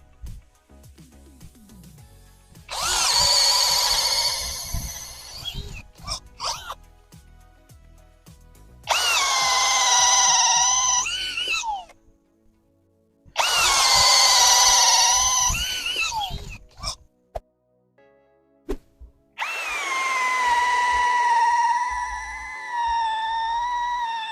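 A Chinese brushless electric drill bores into wood at speed setting 2, whining loudly in four long bursts of several seconds each, separated by brief pauses with small clicks and clatter.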